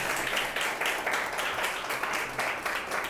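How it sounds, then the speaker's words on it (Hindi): Audience clapping at an education talk in India, a loud, sustained burst of applause from a room full of people, steady throughout with slight swells. "ताली तो जम के पीटते हो आप लोग यार"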